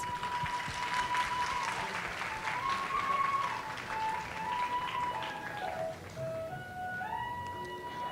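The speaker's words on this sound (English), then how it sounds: "let's welcome them with a huge round of applause." An audience at an international biotechnology conference applauds to welcome guests, giving a soft, distant, continuous patter of clapping with a sustained musical tone running over it that drifts in pitch near the end.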